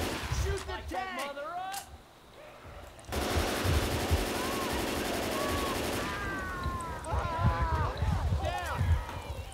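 Rapid automatic weapon fire aimed at the Tank in Left 4 Dead 2, a dense sustained burst lasting a few seconds, with players talking over the game before and after.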